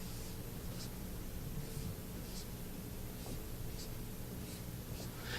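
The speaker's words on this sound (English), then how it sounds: "I'll draw a few of the lines here." Chalk or marker drawing field lines on a lecture board in a physics class, faint scratchy strokes repeating over a steady room hiss, with no talk.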